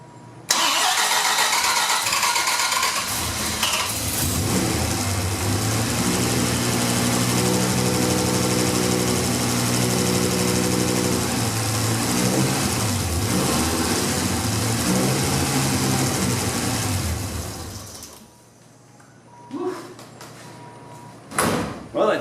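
Dodge Viper engine cranking and catching, then running loud and rough for about seventeen seconds before dropping off as it struggles to hold an idle, with faint sounds after it quiets.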